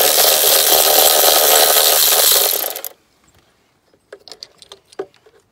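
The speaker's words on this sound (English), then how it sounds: "next you're gonna take a 13 millimeter socket and remove your idler pulley" A 13 mm socket on a power tool spins off the idler pulley of an R53 Mini Cooper S, making a loud whirring burst for about three seconds, then quiet scattered clicks and taps.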